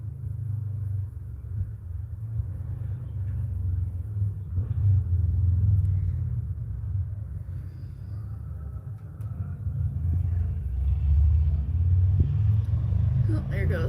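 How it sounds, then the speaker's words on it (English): A big truck rolls by outdoors, its deep engine rumble steady and swelling at moments as it passes. "there goes a guy on a big truck"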